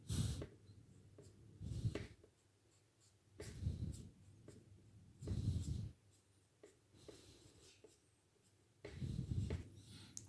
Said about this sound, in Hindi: एक मिनट दोबारा लिख लेता हूँ।